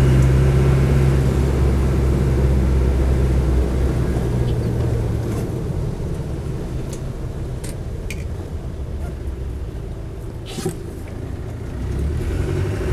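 A Land Rover 90 with a 200Tdi diesel engine drones steadily while driving, a loud, even low rumble that eases slightly partway through, with faint rattles and no voices.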